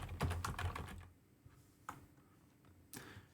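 Keys clatter on a computer keyboard as a web search is typed, a quick burst of close clicks followed by a few sparse taps and pauses, with no voices.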